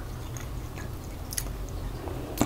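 Close, quiet chewing of crisp hazelnut shortbread thins, light crunches and bites scattered through a soft background hum with no talk.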